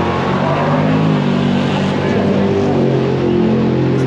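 Drag race cars, among them a supercharged 383 Mopar, rumble steadily through test and tune at a racers' competition, a dense, loud engine drone that holds without pause over the whole stretch.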